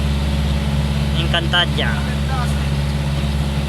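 A vehicle engine running short on gasoline drones steadily and loud at low pitch throughout, with brief speech over it partway through.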